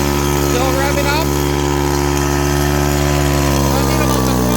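A small engine on cheap power equipment races at a steady high idle with a stuck throttle, loud and close, its droning hum constant, with brief voices in the background.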